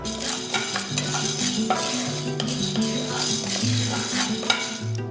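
Lentils for idli podi dry-roasting in a pan while a spoon stirs them steadily, giving a continuous close scraping and rustling texture that runs the whole way through, with no talking.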